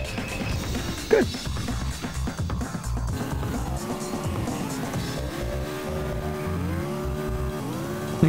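Racing cars in the video game Ignition drive with engines revving up and down in repeated rising and falling whines, broken by sharp skids and a brief crunch, all fairly loud and steady.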